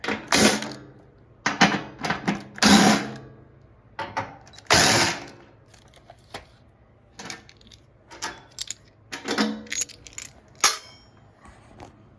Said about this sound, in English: 3/8 nut driver.